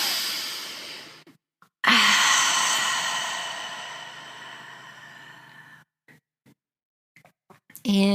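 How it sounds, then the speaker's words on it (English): A long, deep exhale sighs out close to the mic, followed by quiet pauses and a fresh intake of breath; no words spoken. "Take another nice deep breath."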